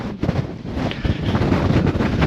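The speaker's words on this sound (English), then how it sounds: "We got 60-mile-per-hour winds pretty much sustained up here." Strong sustained mountain wind, around 60 mph with gusts, buffets the microphone on the summit of Mt. Katahdin, a loud continuous broadband roar with rumbling low gusts throughout.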